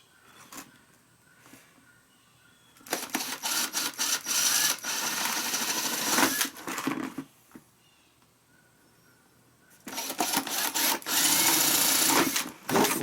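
A drill bores holes into a soft plastic holding tank for a portable recirculating sluice box, with two long loud whirring bursts separated by quieter pauses and short starts, close by with no talk.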